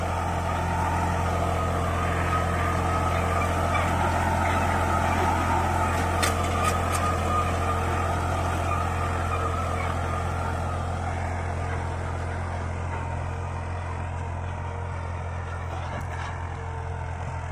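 A New Holland tractor pulls an 8x8 harrow while ploughing a field, its engine a loud, continuous droning hum with a steady low tone that runs unbroken throughout.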